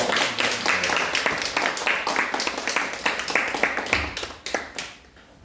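A church congregation claps together in welcome for visiting missionaries at the close of a Korean Presbyterian worship service, a dense, steady burst of many hands that thins out and fades near the end.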